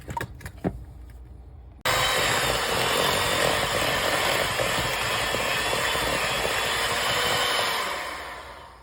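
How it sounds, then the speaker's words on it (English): A hand mixer creams dark brown sugar into cookie dough for chocolate chip toffee cookies. It starts abruptly after a few faint knocks and keeps a loud, steady whir that tapers slightly near the end. "we're going to cream this together with my hand mixer"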